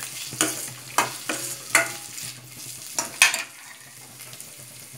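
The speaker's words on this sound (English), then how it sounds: "Onions are turning a bit golden brown." Onions frying in a pan for poha upma, soft sizzling with a few sharp scrapes and clinks of a spoon against the pan, moderately close, no voices.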